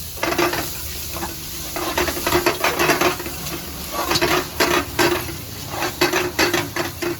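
Ginger, garlic, onion and tomato fry in a pan, sizzling steadily close by while a spoon stirs and scrapes against the metal in uneven bursts of clinks, with no speech.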